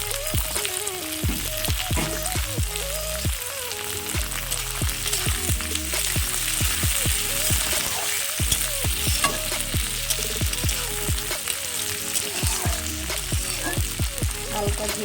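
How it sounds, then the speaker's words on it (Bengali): Onions fry in hot oil in a pan, giving a loud, continuous close sizzle broken by frequent scraping stirs of a utensil against the pan, with no voices over it. "তো এর মধ্যে পেঁয়াজগুলো দিয়ে দেবো, কারণ পেঁয়াজগুলো প্রথম থেকে দিয়ে দিই, পেঁয়াজ তাড়াতাড়ি একটু ভাজা হয়ে যায়"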